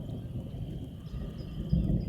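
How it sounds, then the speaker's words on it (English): Early-morning thunder rolling from a single cloud over a farm, a low continuous rumble with a slightly louder swell near the end. "There's the thunder."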